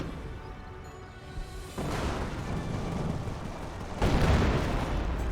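A 25-pounder artillery barrage in Company of Heroes rolls in as a dense, loud rumble of explosions that swells in two distinct waves, the second heavier, blending into a continuous booming roar.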